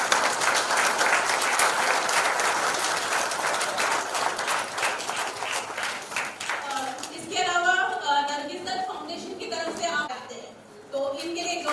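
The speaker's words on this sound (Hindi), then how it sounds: "तो इनके लिए जोरदार तालियां" Loud audience applause at a cancer screening camp and tobacco-free auto rickshaw launch event, a dense steady clapping from a crowd that fades as a voice speaks over it.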